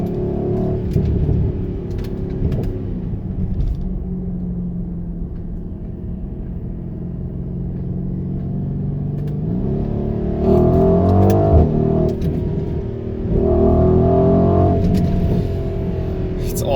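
A 2020 Mercedes GLC 63s AMG Coupe accelerates hard in second gear, its engine droning steadily before climbing into two louder revving surges. Someone talks over the engine noise from inside the cabin.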